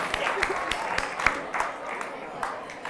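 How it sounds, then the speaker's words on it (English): Scattered clapping from a small crowd, uneven and sustained, with distinct sharp claps over a busy background murmur. "Can we all just give a round of applause for this wonderful woman who created this project?"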